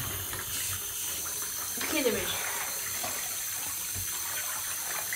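Water runs into a bath where a Lush Christmas penguin bubble bar is dissolving, a steady close rushing hiss that carries through the whole stretch while a person briefly talks over it.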